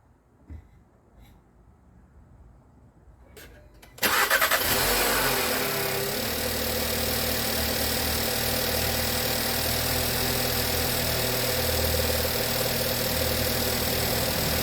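A 2016 Volkswagen Jetta 1.8 Turbo engine cranks and fires after a few quiet seconds, a sudden close burst that flares briefly, then settles into a steady, even idle.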